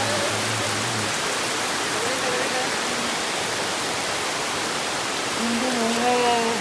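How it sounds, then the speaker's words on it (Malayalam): Rain falls steadily on a windy day, a dense, loud, even hiss of drops with faint tonal hum underneath. "ഇത് എവിടെന്ന മഴ ഇത്?"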